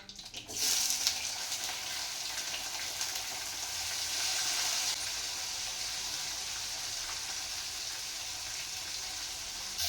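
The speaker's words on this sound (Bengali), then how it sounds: "এবারে আমি বেগুনগুলোকে ভেজে নেব।" Eggplant frying in hot oil in a pan, a dense, even crackling sizzle that jumps up at the start and then holds steady and fairly close for the whole stretch, with no talking.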